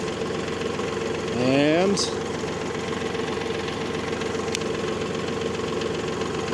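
A tractor engine idles steadily as it warms up before the PTO is engaged, a constant close rumble throughout, with a short spoken word near the start.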